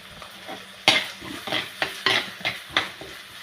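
Ginger and curry leaves fry in a pan, with a spoon stirring and scraping in rhythmic clatters over a light sizzle, close and fairly loud.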